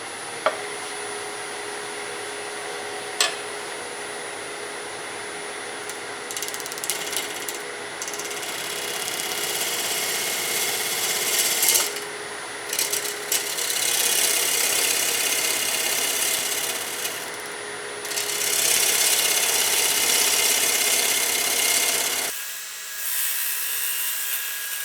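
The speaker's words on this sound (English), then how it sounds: "You see how the edge of the beaver cutter sticks out like that? That really helps you regulate your cut." A wood lathe turns a flat vase into a bowl while a beaver cutter shaves the spinning wood, giving a continuous whirring, scraping cut that swells and eases in long passes, close and loud, before the cutting stops near the end.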